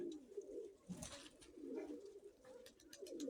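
A pet pigeon hen coos softly in low, rolling phrases that repeat a few times, with a faint background hiss and a brief scuffle partway through.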